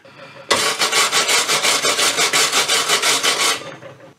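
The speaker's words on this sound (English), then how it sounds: "Where the bolt's going to go through, it's covered in grass. I'm going to wire brush that." A wire brush scrubs caked grass from a bolt hole on a Masport 250/4 lawn mower, with fast, steady back-and-forth scraping strokes. The sound is loud and close and lasts about three seconds before stopping.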